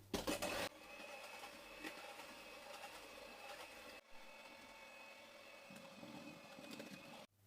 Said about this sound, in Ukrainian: Додаємо ванільний цукор і продовжуємо збивати.